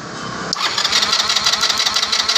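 Mahindra Duro scooter fitted with an Activa ignition coil, a brief hum giving way to the engine catching and running with a rapid, rough putter, close and steady.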